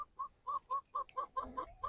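A rooster and a flock of hens cluck in short, regular bursts close by while new chickens are being introduced to the flock, with busier, overlapping clucking near the end.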